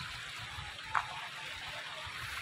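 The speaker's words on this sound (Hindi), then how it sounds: "साफ नालियाँ चल रही हैं यहाँ पे" Clean water from a spring flows through small stone channels beside a thick-walled village lane in the Kalash valley, Pakistan, giving a steady, soft trickling wash with one brief brighter splash near the middle.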